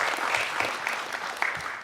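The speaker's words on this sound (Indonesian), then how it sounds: "tepuk tangan untuk kita semua" Audience applause in a parliamentary committee hearing room, a steady dense wash of many hands clapping throughout, fairly loud with no clear talk over it.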